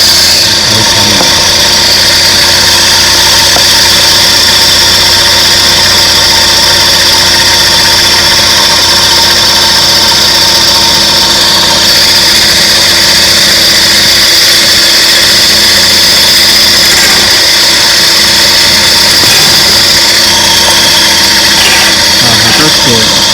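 Suzuki Carry DA63T kei truck with an automatic transmission, driving with a steady engine drone and a continuous light rattling, shimmering noise from the gearbox, fairly loud and unbroken throughout.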